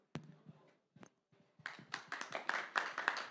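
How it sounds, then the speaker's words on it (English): Applause rises after a few scattered claps, growing into steady, fairly close clapping from several people that continues to the end. "That's your applause."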